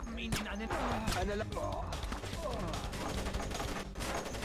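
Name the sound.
gunfire in video game Splinter Cell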